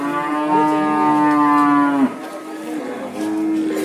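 Cows bellow at a busy cattle market in Prambanan. A loud, close, drawn-out moo lasts about two seconds and is followed by a second, lower moo. Faint crowd noise sits underneath.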